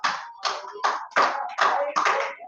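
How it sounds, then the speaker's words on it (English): A classroom of students clapping for a classmate after a good answer, in six short bursts of applause that rise and fade in a loose rhythm, close and fairly loud with no talk. "Clap for him."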